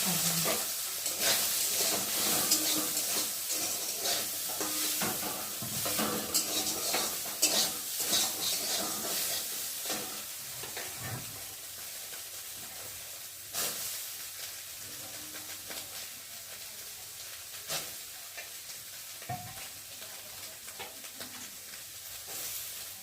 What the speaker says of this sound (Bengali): সবিনগুলোকে দিয়ে প্রথমে ভেজে নেব তেলের মধ্যে একটু নুন দিয়েছি